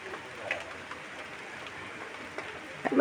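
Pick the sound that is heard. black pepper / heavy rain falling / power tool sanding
heavy rain falling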